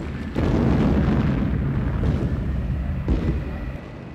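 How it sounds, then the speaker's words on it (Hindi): A deep, rumbling blasting explosion in a copper mine roars in abruptly and sustains a heavy low boom, with a second surge of rumble partway through, loud and close. "इस जगह पर विस्फोट होना आम बात है।"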